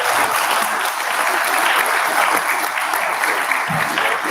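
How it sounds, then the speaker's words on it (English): Sustained applause from a large crowd, dense steady clapping filling the whole stretch without a break. "So give him one more round of applause."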